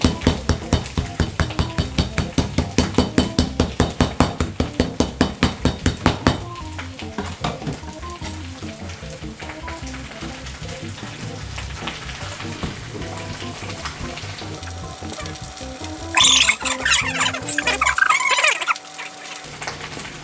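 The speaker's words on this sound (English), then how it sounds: "So obviously we're cutting through a large amount of meat, and we do want for our dumplings for it to be similar to a minced meat." Heavy knife chopping through a large amount of meat for dumpling filling, a rapid steady run of loud close thuds on a board, then lighter irregular cutting with kitchen clatter and a brief hiss near the end.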